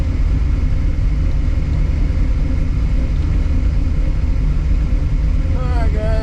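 A Corvette drag race car sits at the line at a drag racing event, its engine rumbling in a loud, steady, close idle that continues throughout.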